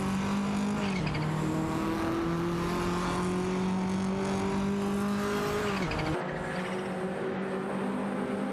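Racing-game cars roar around a track, with a Mercedes-Benz 190 Evo II among the field: a steady, loud engine whine holds and shifts pitch, with tyre squeal and a brief dip near the end.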